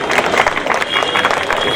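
An audience at a mushaira poetry gathering in Dharavi bursts into dense, sustained applause, with loud clapping from many hands that continues without a break.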